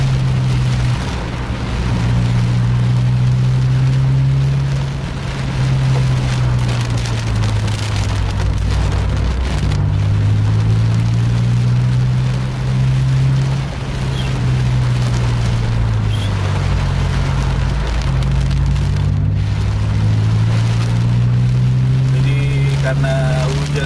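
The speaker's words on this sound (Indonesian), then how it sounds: "inilah keadaan sekarang dengan kondisi hujan yang cukup deras" Heavy rain drums on a moving sleeper bus while the engine drones steadily underneath, loud and continuous, with a voice talking over it.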